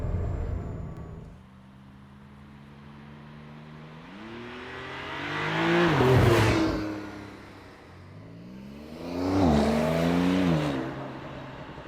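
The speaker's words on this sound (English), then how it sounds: "Double clutching here now in the next roundabout." Interior engine note of a 2021 Porsche 911 Targa (992) through a roundabout, rising through two strong throttle blips and rev swells with double-clutched downshifts between steadier cruising drones, no talk.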